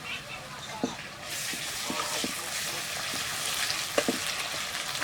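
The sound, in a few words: ginger paste, garlic paste and green chillies frying with onion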